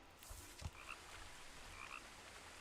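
Frog croaking in the video game What Remains of Edith Finch: two short, loud croaks, close and alone, over a low ambient hum.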